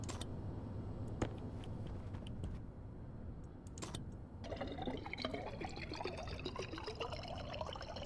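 Water pours and trickles continuously in the video game Stationeers, a steady liquid rush with a few sharp clicks and thumps at the start, no voices heard.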